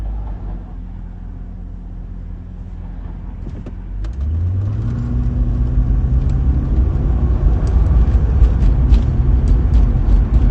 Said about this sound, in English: There's a blue truck passing me